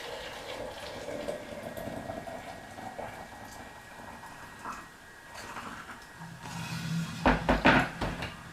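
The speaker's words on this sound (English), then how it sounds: "put them in your pot, and the water is boiling" Honeysuckle flowers dropped into a pot of boiling water, a low steady bubbling and hiss with soft pot clinks, then a louder burst of splashing and knocks near the end, no talk.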